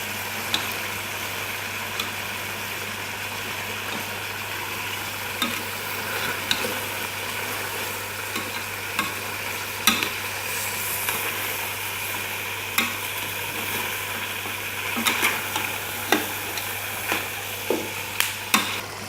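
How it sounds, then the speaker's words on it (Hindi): Spices are stirred and roasted in a pot for street-style beef nihari, a steady sizzle with scattered spoon scrapes and clinks against the pan that grow more frequent toward the end, over a low hum. "इस सारे स्पाइसेस को हम मिक्स करके इसके अंदर इसको 2 से 3 मिनट के लिए भून लेंगे।"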